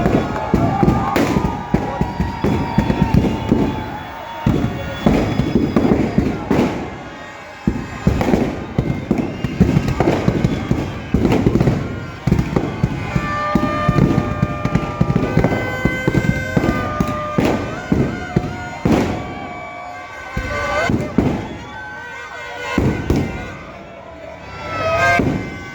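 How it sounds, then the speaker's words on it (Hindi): Firecrackers bursting rapidly as the Ravan effigy burns at a Dussehra Ravan Dahan in Uttam Nagar, Delhi, loud dense crackling volleys and pops nearly nonstop, with crowd noise and occasional voices beneath. "जल गया भाई जल गया, मुंडी पे आग पहुंच गई भाई, जल चुका भाई रावण, मुंडी पे आग"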